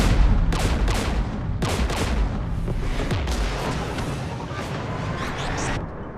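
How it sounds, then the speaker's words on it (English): Gunfire in the Mass Effect 3 video game: loud, dense bursts of weapon fire and heavy booms overlapping in rapid, irregular volleys, continuous and close throughout with no talking. "We're taking fire."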